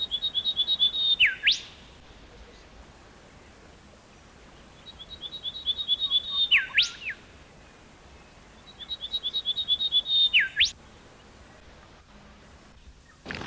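A male golden whistler in Australian bush sings three separate phrases, each a run of rapid clear notes ending in a sharp whip-like upward crack, spaced several seconds apart with quiet between.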